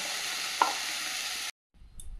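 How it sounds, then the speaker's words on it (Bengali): Leafy greens fry in a pan over a low gas flame, a steady soft sizzle with one brief stir, cutting out abruptly before faint background noise returns. "গ্যাসটা কমিয়ে রেখে নিভু আছে ভেজে নেবো শাকটা।"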